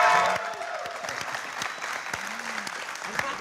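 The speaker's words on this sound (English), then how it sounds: "I'm clapping for me." Clapping from a small group at the end of a studio show, a burst of claps with scattered individual hits, fairly close and moderately loud, with faint voices in the background.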